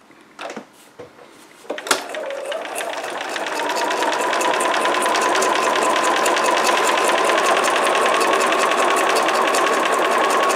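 A sewing machine stitching pieces for a book: a few handling knocks and clicks at first, then the motor starts and runs loud and steady in a continuous fast whir close by.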